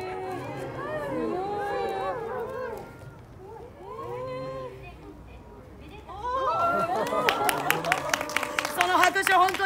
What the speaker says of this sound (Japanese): その拍手本当に嬉しい。